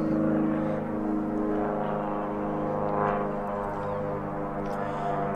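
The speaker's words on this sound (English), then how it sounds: "Sorry about the plane." A plane flies over an outdoor rural field during spring planting of a whitetail food plot, giving a steady, low engine drone that holds at an even level for several seconds.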